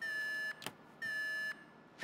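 An electronic alarm in GTA V blares in two steady, loud, high-pitched pulses, each about half a second long, separated by short gaps, with no talk.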